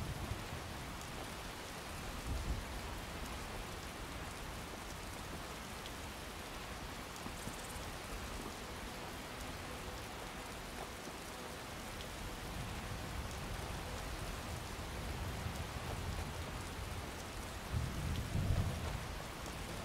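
Steady, even rainfall hisses continuously in the video game Skyrim, with faint low rumbles of distant thunder underneath; no voices.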